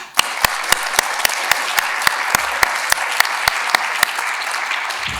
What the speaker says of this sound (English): So a little round of applause for them, please.